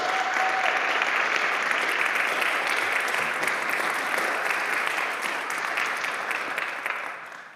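Sustained applause from an audience welcoming a speaker to a faith and body talk, dense steady clapping throughout that thins slightly toward the end, with no speech.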